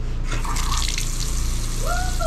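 Water running from a tap in a houseboat bathroom, a steady close splashing rush that holds throughout with a brief high squeak near the end.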